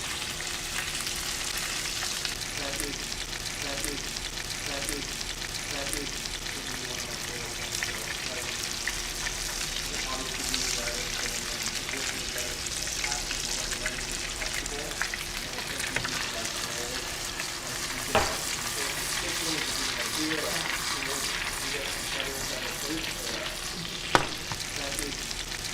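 Swedish meatballs and onions fry in a pan with a steady, even sizzle and crackle that runs throughout, broken by a couple of sharp clacks near the end.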